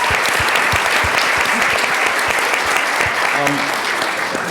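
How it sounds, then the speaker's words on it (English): An audience claps in a continuous, moderately loud round of applause, with a few sharper individual claps near the front and a brief voice surfacing late in the burst. "That deserves a round of applause, I think, just for that."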